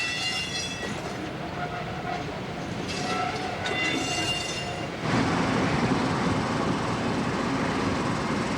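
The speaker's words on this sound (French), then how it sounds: "C'est la 66 506, la toute dernière de la série, qui part haut le pied vers Charleville-Mézières." French BB 66506 diesel locomotive, the last of its class, pulls away running light under catenary. Its engine gives a steady, loud rumble with a rising whine, and the roar swells noticeably partway through as it gets under way.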